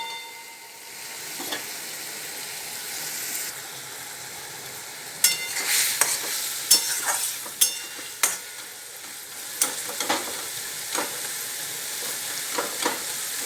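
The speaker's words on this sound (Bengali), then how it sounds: "ব্রাহ্মী শাক ভাজা।" Brahmi greens with a little water and sugar are stir-fried in a pan, a steady soft sizzle broken by sharp scraping and clinking strokes of a spatula through the second half.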